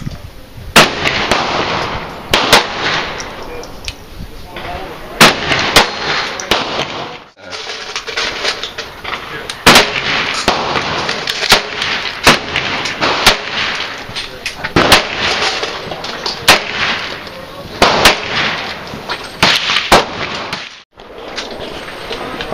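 A Sig Sauer Mosquito .22 pistol fired outdoors at a target, a long string of sharp, loud close shots at irregular intervals with brief pauses and some voices in between.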